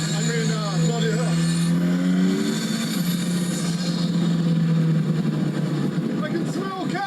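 A turbocharged Ariel Atom 4R roars close up under hard acceleration, its engine note climbing and shifting through gears with wind rush and turbo boost noises, while a voice talks over it.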